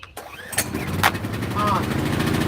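A portable generator engine is pulled over and fires up, catching into a loud, steady close-range running hum after a brief sharp start.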